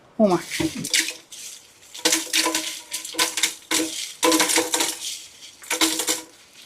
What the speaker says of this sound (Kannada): ಮಿಕ್ಸಿ ಜಾರ್ಗೆ ಇದನ್ನೆಲ್ಲ ಟ್ರಾನ್ಸ್ಫರ್ ಮಾಡ್ಕೋಣ ಬನ್ನಿ